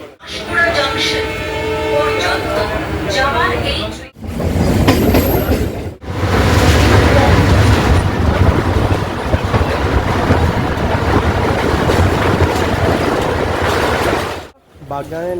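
Inside a nearly empty local train on the Kharagpur line, a continuous loud rumble of rolling wheels with rhythmic rattles and brief gaps, and voices in the carriage early on.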